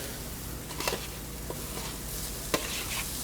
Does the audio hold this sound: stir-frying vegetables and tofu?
yes